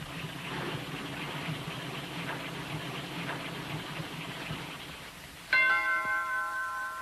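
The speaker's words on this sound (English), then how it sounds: "Somebody's ringing the bell, Dora." A doorbell rings in a 1940s household, a single sharp chime with a sustained ringing tone that rises above a quiet background hum near the end.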